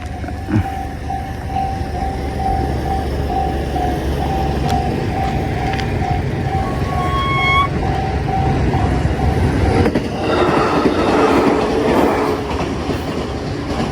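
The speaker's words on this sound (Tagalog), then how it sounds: "May parating pa na tren." A train rolls past on the rail line, a steady rumble and clatter of wheels that sustains for the whole stretch, with a brief whistle-like tone and heavier rushing noise as cars go by near.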